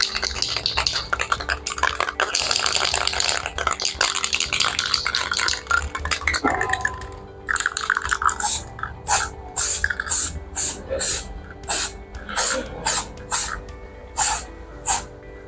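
Aerosol developer sprayed evenly along a steel weld for magnetic particle inspection: a long continuous hiss at first, then a rhythmic series of short, separate spray bursts, close and clear with no talking.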